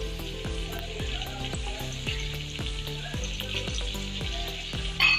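Tomato paste being added to frying vegetables for Chinese pulao, sizzling steadily in a hot pan, with a regular series of dull knocks from stirring or tapping and a brief clatter near the end.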